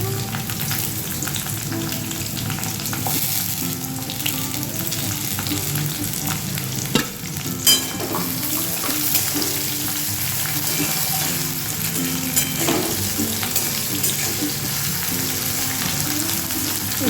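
Sliced bitter gourd and onions frying in oil as they are stirred, a loud continuous sizzle with intermittent scraping of a spatula against the pan, close and without talk.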